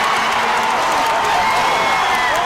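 A gym crowd at a high school varsity boys basketball district final roars and applauds after a made shot, dense sustained cheering close and loud throughout.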